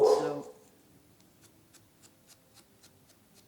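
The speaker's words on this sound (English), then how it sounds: "that was my dog." A single short dog bark up close at the start, then quiet steady ticking like a clock, with a brief spoken word.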